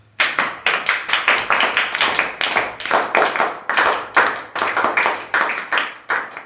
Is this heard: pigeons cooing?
no